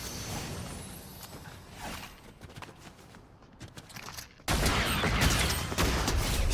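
Shotgun blasts in a video game come as scattered, booming bursts, then a dense, loud roar of fire fills the final two seconds.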